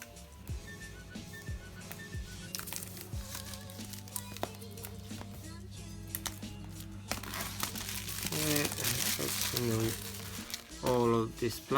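Plastic packaging crinkling and rustling close by during an unboxing of a DJI Osmo Mobile, with bursts of handling noise that grow louder toward the end and faint talk underneath.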